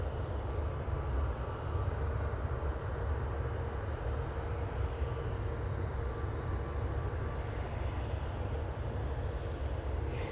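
Airliner taxiing and lining up behind a Ryanair jet at an airport, a steady distant jet engine rumble and hiss held constant for ten seconds with no voices.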